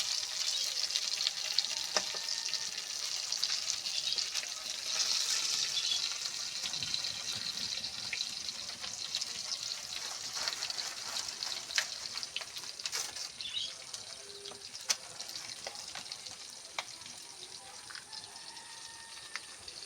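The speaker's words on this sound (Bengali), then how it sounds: "প্রথমে কি করছে মাছ ভাজছে" Fish frying in a pan over a wood fire fed with straw and twigs, a steady close sizzle running throughout with occasional crackles and spatters, with no voices.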